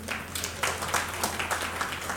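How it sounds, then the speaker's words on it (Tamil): Scattered clapping rises from an audience at a Tamil speech on the poet Kannadasan, arriving in soft irregular bursts over a low steady hum, fairly faint and somewhat distant. "நல்ல கைத்தட்டல் கொடுக்கலாம்"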